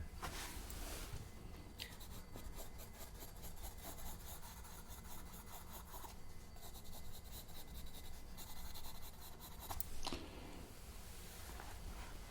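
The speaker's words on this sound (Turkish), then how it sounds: "Evet bunda yazayım yazayım. Sen konuşsan ben not alayım merak etme." A pen scratches across paper while notes are taken at a desk, a steady soft scratching with quick strokes, close and quiet, with no talking.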